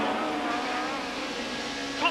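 A touring car from the 1991 British Touring Car Championship, Steve Soper's car suffering a problem, circulates near Copse corner, its engine a steady sustained drone with a brief sharper burst near the end, under race commentary.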